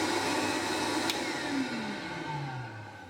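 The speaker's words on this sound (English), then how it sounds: "I have this switch here that turns on and off the vac" A workshop shop vacuum fitted with a cyclone dust separator runs with a steady, droning whine, and its pitch slides downward as it winds down over a few seconds.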